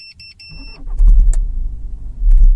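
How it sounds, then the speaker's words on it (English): A 2016 VW Passat fitted with a Starline i96v2 immobiliser: a chime sounds, then the starter cranks and the engine catches with a loud close rumble, dips, then surges briefly before being cut off. "now if we go and start the vehicle"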